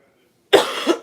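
A single close, sharp human cough bursts out after a moment of near silence, followed by a rougher second push as it fades.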